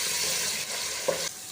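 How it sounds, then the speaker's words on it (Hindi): Garlic and ginger fry in a pan with a steady bright sizzle and a light stirring scrape near the end, close and alone. "अब लहसुन अदरक को भी हम 1 मिनट के लिए अच्छे से फ्राई कर लेंगे।"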